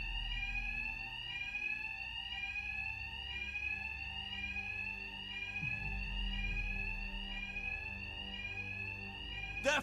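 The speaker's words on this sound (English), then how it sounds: "Two-Face's thugs won't hear me over the alarm." A fire alarm rings continuously in Batman: Arkham Knight, a steady loud electronic tone repeating in even pulses with a low rumble beneath, ending with a brief thump.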